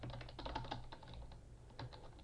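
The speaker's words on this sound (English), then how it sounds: "So let's type some stuff." Keys clattering on a computer keyboard, a quick irregular run of soft clicks close by and faint, pausing briefly before a few more taps.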